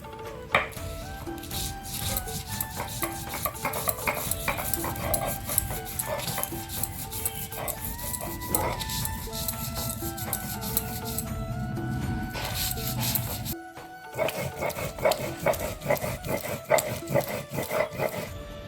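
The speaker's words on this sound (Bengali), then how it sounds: "এখন বেটে নিব শস্যে একসাথে লঙ্কাটাও দিয়ে দিব" Mustard seeds and dried chili are ground together on a grinding stone, with steady rhythmic scraping and rubbing strokes close by that continue throughout, over background music.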